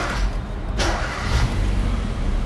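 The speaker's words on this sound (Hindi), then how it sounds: "गाड़ी स्टार्ट करना" A Hyundai Creta fitted with a CNG kit cranks and its engine catches within about a second, then settles into a steady idle rumble heard close up.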